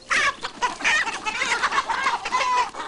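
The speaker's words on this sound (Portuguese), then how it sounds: "ele aproveitou o velho galpão e começou a criar 120 galinhas" About a hundred and twenty hens cluck in an old shed, a busy overlapping chorus of short, close clucks and squawks in irregular bursts, with no talking.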